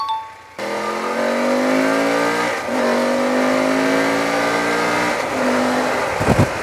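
A BMW F750GS motorcycle engine revs up hard through several rising pulls, loud and close, with brief dips between gear changes and a sputtering close.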